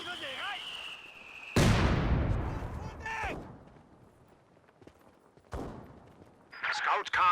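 Mortar fire from mortar pits in the Company of Heroes 2 game, a few heavy booming blasts with long rumbling tails amid other battle effects, under an ongoing commentary voice.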